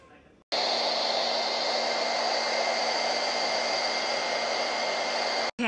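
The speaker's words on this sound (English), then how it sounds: "I kind of blow dried it to where the pom-poms are staying on" A hair dryer blow-drying painted pom-poms glued onto a hobnail-style vase, switching on abruptly into a loud, steady close-up whoosh that runs unbroken for about five seconds before cutting off.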